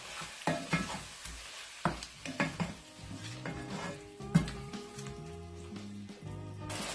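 Mutton, yogurt and spices are stirred together in a pot for mutton masoor dal, with irregular close scrapes and knocks of a spoon against the pot over a gentle sizzle.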